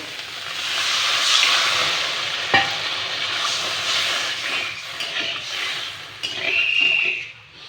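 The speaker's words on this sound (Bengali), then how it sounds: "এবারে আমি এতে দিয়ে দেব জল।" Water poured into fried spice masala in a pan for an egg curry sets off a loud, steady sizzling hiss that runs throughout, with a brief utensil knock partway through and a brighter burst of steam near the end.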